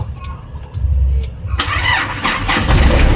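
A reluctant motorcycle engine is started: a few sharp clicks and weak cranking attempts, then the engine catches with a loud, rough, broadband roar that keeps running up close.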